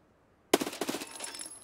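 Gunfire in the video game Escape from Tarkov, silence then a sudden sharp burst of several rapid shots with a few trailing cracks, fairly close.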